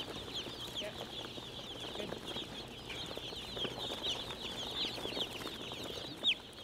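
Broiler chicks in a brooding house fill the air with a constant, dense chorus of high-pitched peeping, many birds cheeping together at moderate distance over a faint low hum.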